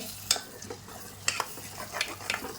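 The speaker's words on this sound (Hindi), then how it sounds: "अब मैं यहाँ पे जो ये मटर है जो हमने भून के रखे थे ये डाल देंगे।" Roasted peas stirred into masala frying in a pan for matar nimona, with repeated scraping stirs and clatter over a soft steady sizzle, close by and with no talking.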